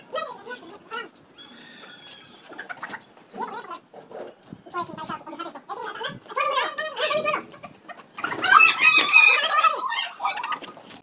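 Aseel roosters cluck and squawk with flurries of agitated calls and panting as they are caught, amid people talking nearby, growing loudest in a frantic burst toward the end.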